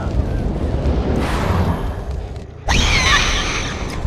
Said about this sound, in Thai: ตรงนี้ระเบิดไปแล้ว เป็นเปิร์กผมเอง